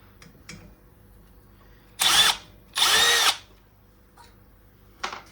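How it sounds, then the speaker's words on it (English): Two short bursts of a power drill whirring up close while removing the fan from a Mitsubishi Electric air conditioner, each lasting under a second, separated by a pause, with faint clicks and handling noise around them. "get the drill and take the fan off"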